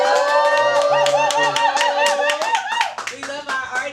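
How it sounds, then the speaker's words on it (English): An audience claps to welcome a rapper onto the stage at a performance. Brisk, close handclaps run for several seconds under bright music and voices, with some laughter mixed in. "please give him a big round of applause"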